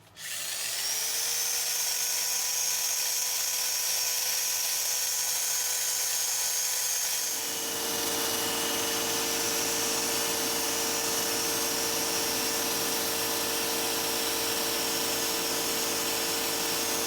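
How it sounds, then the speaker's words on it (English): A power sander runs on a wooden piece with a loud, steady high-pitched whine that starts abruptly, shifts to a fuller roar around 7 seconds and continues unbroken. "Now let's come back and sand it all down."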